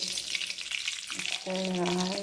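Cumin seeds crackle and sizzle in hot oil for a tempering, a close, steady frying hiss that briefly dips before continuing.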